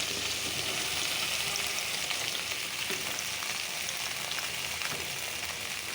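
Okra (bhindi) sizzles steadily in a hot pan, a dense, even crackle of frying heard up close with no voices over it.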